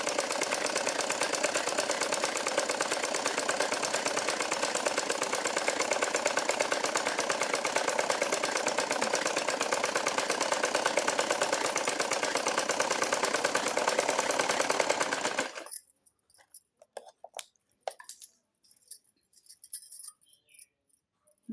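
A sewing machine stitches a double seam on a blouse belt, running as a steady whirring hum for about fifteen seconds before it stops, followed by scattered light clicks and handling noises.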